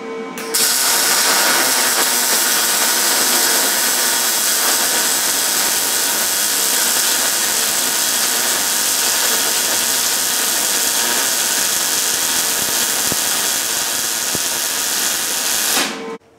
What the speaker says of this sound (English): weld this little spot, and then go to the other side, weld it